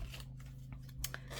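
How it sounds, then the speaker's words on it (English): Scissors snip around the edge of a paper piece for a distressed edge, a few quiet close cuts over a low background hum. "I want to take my scissors"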